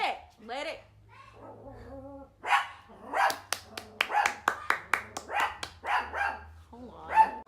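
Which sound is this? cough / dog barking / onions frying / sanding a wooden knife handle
dog barking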